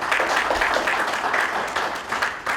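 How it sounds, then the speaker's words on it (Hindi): Audience applause at a Hindi-language community gathering, many people clapping together in an uneven, rippling rhythm that stays steady and fairly loud, with no speech on top. "कम से कम जोरदार तालियां तो बजानी होगी"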